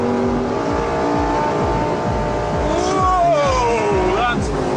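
A Lamborghini Gallardo engine loud and close as the car accelerates through a corner, with a steady, rising throaty roar, rhythmic gear-like pulses and a brief tire squeal toward the end.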